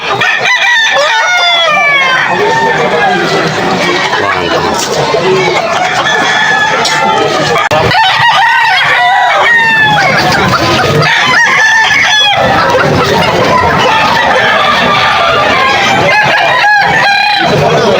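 Several roosters crowing loudly and repeatedly at a busy pet market, overlapping calls and clucking from close by, with people talking among the birds.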